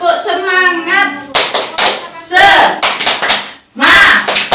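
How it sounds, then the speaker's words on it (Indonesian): A group of women claps a rhythmic encouragement pattern, tepuk semangat, during a community training session, sharp bursts of hand claps in quick clusters alternating with loud chanting and talking voices. "Ayo kita sama-sama tepuk semangat."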